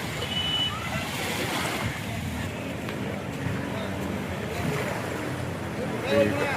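Surf and waves wash continuously at the sea at Thondi, with wind buffeting the microphone and someone talking over the steady roar.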